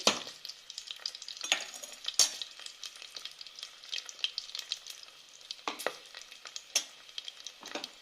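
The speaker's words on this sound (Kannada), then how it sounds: "ಸ್ವಲ್ಪ ಫ್ಲೇವರ್ ಬರೋದು ಗಂಟ ಫ್ರೈ ಆಗಲಿ." Ghee sizzles and crackles steadily in a pan while ghee rice is being made, with a few sharper pops and stirring scrapes, close and continuous, with no one talking.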